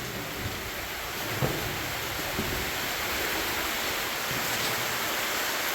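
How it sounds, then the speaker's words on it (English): Water pours down a raise in an underground gold mine, swollen by snowmelt, making a dense, steady roaring rush that fills the space without a break. "It makes a lot of water down that raise."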